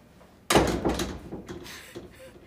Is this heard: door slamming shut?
yes